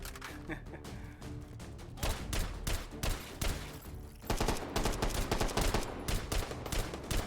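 Gunfire in the virtual reality shooter H3VR, Take & Hold mode, while running: dense rapid bursts of shots and clattering impacts, loud and continuous, with a voice talking at times over the shooting.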